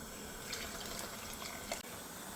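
Hot water pours steadily into a pot of lentils, a soft continuous splashing trickle, faint and close, with a single small clink near the end.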